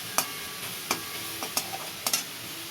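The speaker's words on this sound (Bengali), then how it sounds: "এটা দিয়ে নেড়ে ফেড়ে একটু, শাকটা অনেকটা কমে গেছে গরমে।" Red amaranth greens stirred in a hot pan as they wilt, a soft background sizzle broken by several sharp spatula taps and scrapes at irregular intervals, close and brief.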